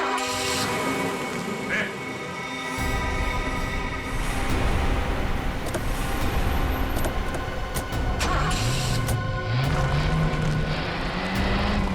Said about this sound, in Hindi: गाड़ी बहुत तेज चला रही है।